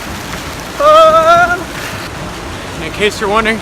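Heavy pouring rain at Lake Bled, Slovenia, a steady hiss and roar throughout, with someone talking over it.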